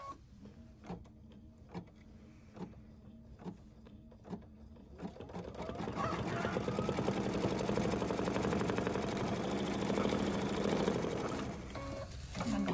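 An embroidery machine stitches a buttonhole placement line for a warm winter soap wrap, first with a few spaced mechanical thumps, then settling into a steady, continuous buzzing whir that runs to the end, no talking.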